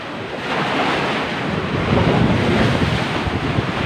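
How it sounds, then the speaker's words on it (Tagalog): Strong ocean waves at Butas Butas cave on a beach in Mauban, Quezon province, a continuous roaring wash of surf mixed with heavy wind buffeting the microphone, swelling louder midway. "So, ngayon malakas kasi ang alon."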